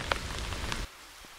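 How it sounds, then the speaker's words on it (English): Heavy rain pours down steadily at a carp fishing spot, a dense close patter of drops that runs loud and then drops sharply quieter near the end. "It's been absolutely tipping it down for hours now"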